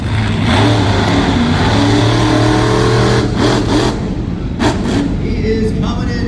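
Monster truck at a Middletown, New York motorsports event, its big engine roaring loudly and revving up and down as it drives and jumps, with crowd and announcer noise mixed in underneath.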